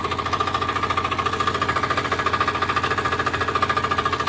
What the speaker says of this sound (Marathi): आता आपलं विडर चालू झालेला आहे।